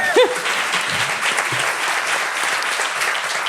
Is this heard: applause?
yes